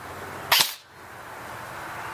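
A single sharp crack from a King Arms Colt M4A1 metal AEG airsoft rifle, fired once close by, then quiet room tone.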